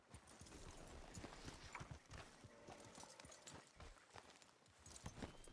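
Steady clip-clop of horse hooves at a brisk riding pace in the video game Red Dead Redemption 2, close and continuous, with a few faint thuds and rustles mixed in.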